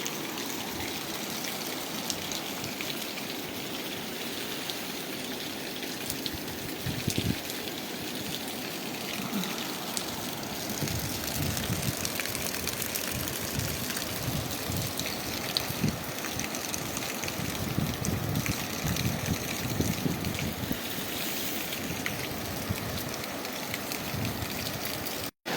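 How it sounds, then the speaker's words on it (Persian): Heavy rain falls steadily outdoors during a flood in Jaghori, a dense continuous hiss with running water throughout, no voices. "باران هم همین لحظه بسیار به شدت میباره"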